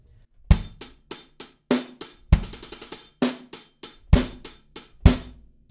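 A drum kit plays a beat with the hi-hat triplets left out, giving sparse, punchy kick and snare hits with lighter hi-hat ticks between them in a relaxed groove, close and alone.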